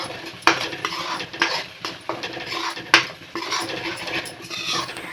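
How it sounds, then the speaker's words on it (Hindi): Spinach being sautéed in a pan with asafoetida and cumin: a spoon scrapes and clinks against the pan in repeated sharp strokes over a soft background sizzle, close and fairly clear, no talking. "और ये हींग जीरे के साथ इसे हम अच्छे से भून लेंगे।"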